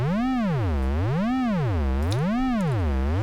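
Synthesizer tone with its pitch swept smoothly up and down by a sine-wave LFO, making a loud, continuous, siren-like wobble that cycles about three times, with nothing else heard.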